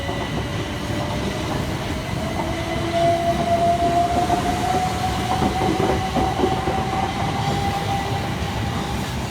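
Southern Class 377 electric multiple units departing a suburban station at Carshalton: a loud, steady rumble of rolling wheels and traction hum, with a rising motor whine as the trains pull away, continuous throughout.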